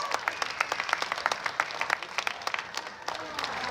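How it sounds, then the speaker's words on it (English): A crowd at a renaissance faire knights' tournament applauds, with many hands clapping in a brisk, uneven patter that carries on steadily throughout, with a voice faintly mixed in. "round of applause for those beautiful knights"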